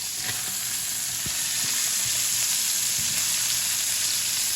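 Garlic butter steak sears in a hot pan on the stove, a steady loud sizzle and spatter that fills the space, with faint clinks underneath and no voices.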